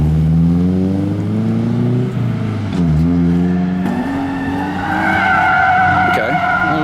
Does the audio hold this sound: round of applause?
no